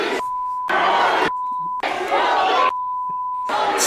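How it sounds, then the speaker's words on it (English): Censor bleeps cut across a last man standing wrestling broadcast, steady tones in repeated stretches alternating with bursts of loud crowd cheering and shouting. "now I get to bleep"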